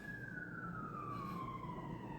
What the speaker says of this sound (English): I don't know if y'all can hear the sirens.